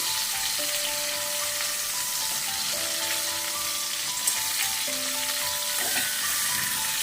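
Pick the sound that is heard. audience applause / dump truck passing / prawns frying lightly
prawns frying lightly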